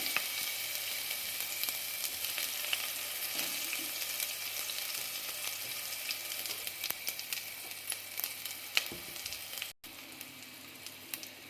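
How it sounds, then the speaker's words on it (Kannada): Ginger garlic paste fries in a hot pan with oily cooking, giving a steady, close sizzle with faint crackles and a few stirring scrapes. The sizzle cuts off sharply near the end, then resumes. No talk. "ಇದಕ್ಕೆ ನಾನು ಶುಂಠಿ ಬೆಳ್ಳುಳ್ಳಿ ಪೇಸ್ಟ್ ಹಾಕೋತಾ ಇದ್ದೀನಿ."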